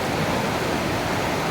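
A waterfall in Caquetá, Colombia pours with a steady, dense broadband rush of falling water, loud and unbroken throughout with no voices.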